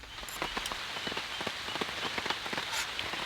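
Steady rain falls on a camping tent, a dense close patter of drops on the fabric with occasional heavier taps throughout.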